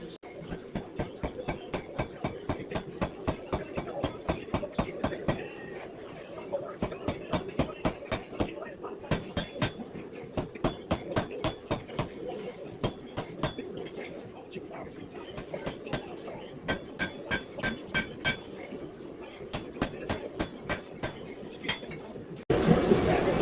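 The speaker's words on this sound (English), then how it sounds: "now we're going to hammer the tip in" Repeated metallic hammer blows on the tip of a steel mini kukri blade ring out close by in a steady, fast rhythm, with short pauses between runs of strikes.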